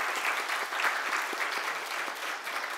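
A standing church congregation in a Korean Sunday service gives loud, sustained applause to welcome a missionary couple from the Philippines: dense, even clapping throughout with no break and no speech.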